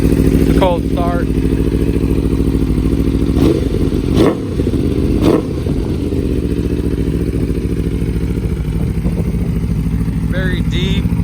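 A superbike with a full titanium SC Project aftermarket exhaust, either a 2020 Aprilia RSV4 1100 Factory or a 2021 Ducati Panigale V4S, starts cold with a loud, deep, throaty rumble. The engine settles into a steady idle with a few clattery thumps.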